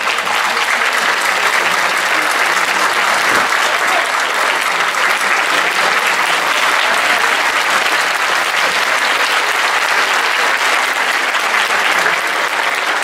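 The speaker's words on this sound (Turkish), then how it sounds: "Alkışlarınızla Halil İbrahim Aran geliyor" Loud, sustained applause from a concert audience greeting a solo singer at a Turkish folk music show, steady dense clapping filling the whole stretch without pause.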